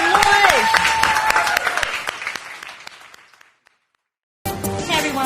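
A live show audience claps and cheers loudly, the applause thinning and fading to silence before music or voices resume abruptly at the end.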